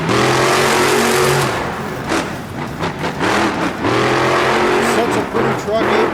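The Apex monster truck's engine revs loud and close at a Monster Jam show in Anaheim, California, rising and falling in strong bursts while a commentator talks over it.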